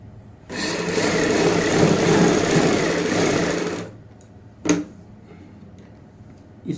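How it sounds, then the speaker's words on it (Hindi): A sewing machine stitches a seam along the side of a sleeve, running in one steady, loud whirring burst for about three seconds, then stopping, followed by a single sharp click. "यहाँ पे भी इस प्रकार से कपड़ा रखते हुए एक साइड से सिलाई लगाएंगे।"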